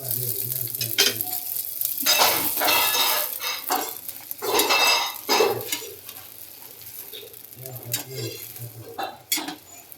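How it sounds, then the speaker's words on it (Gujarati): Dabeli buns toasting on a hot pan give a steady close sizzle and frying crackle, with occasional scraping and stirring clatter of a utensil against the pan throughout. "આપણે પેલા એમાં દાબેલી શેકી લઈએ"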